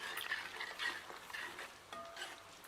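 A spoon stirs fish curry masala in a pan, giving faint, irregular scraping and sizzling sounds in a few short bursts, heard alone without voices.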